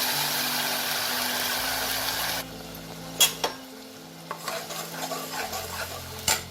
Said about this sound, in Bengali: তেলে আমি একটা তেজপাতা হাফ টিস্পুন জিরে দেবো।